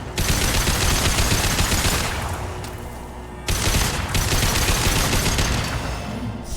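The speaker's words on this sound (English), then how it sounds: "I love this rifle." Rapid rifle fire in Mass Effect 2 comes as loud sustained bursts of dense automatic shots. A short lull breaks the firing before it resumes at full intensity.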